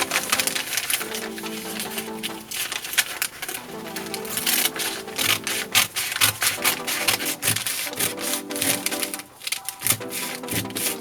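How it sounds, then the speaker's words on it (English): Scissors cutting strips from a brown paper bag up close: a steady stream of dry, rasping snips and rustles with no pauses, with no talking. "I'm going to cut strips starting from the bottom here"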